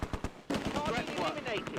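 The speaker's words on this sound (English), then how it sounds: "Robin's Sherman spots and targets an MG42 in depth." MG42 machine gun fire in the wartime strategy game Close Combat: A Bridge Too Far, a quick rattle of bursts followed by denser crackling fire and ricochet-like whines.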